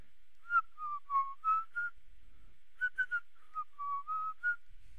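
Someone whistles a tune in clear, melodic phrases, two runs of notes separated by a short pause, fairly quiet against near silence.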